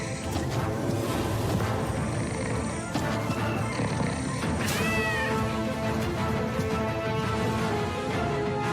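Cat meowing in a video game, a short rising-falling meow partway through a dense bed of game music and ambience, moderately loud and clear.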